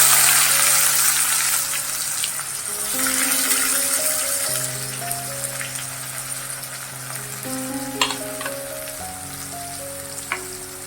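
Onion and cumin seeds frying in hot oil, a steady loud sizzle that shifts and crackles as the onion goes in, with a few sharp pops and clinks near the end; no one talks.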